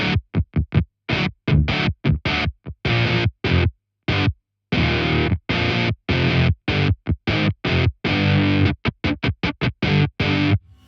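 A Way Huge Conquistador fuzz pedal on electric guitar gives heavily distorted, hard-picked chords in short bursts, each cut off into dead silence by a gate, creating a choppy stop-start rhythm.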